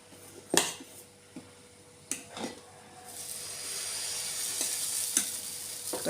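Several sharp spatula knocks and scrapes on a hot pan are followed by dosa batter hitting the surface and settling into a steady, hissing sizzle that fills the second half, with a couple more clacks over it.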